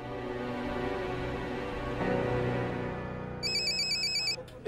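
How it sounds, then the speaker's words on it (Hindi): A mobile phone ringtone chirps in a repeating electronic pattern, close and clear, over a steady background hum in a room, with no talking. "आपके फोन बज रहे"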